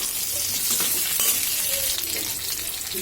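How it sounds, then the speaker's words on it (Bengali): Hilsa fish head and green chillies sizzle in hot oil with garlic as they are stirred, a steady close frying hiss with scattered spoon scrapes and pops, no voices. "এবার আমি এর ভিতরে 7-8টা কাঁচামরিচ আর ভেজে রাখা মাছের মাথাটা দিয়ে দেবো। দিয়ে এটা নাড়িয়ে নেব।"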